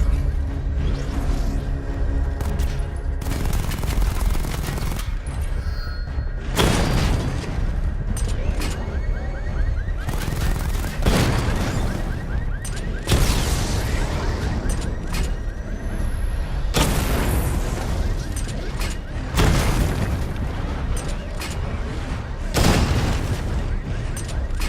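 Missile barrage firing and explosions in the Batman: Arkham Knight video game, a series of loud booming blasts in repeated bursts over a continuous rumbling bed, with some game voice between them.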